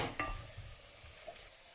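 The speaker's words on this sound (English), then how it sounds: "While the veg is cooking there," Vegetables with parsnip cooking in a pan give a faint, soft sizzle with a few light stirring scrapes, quiet and steady throughout.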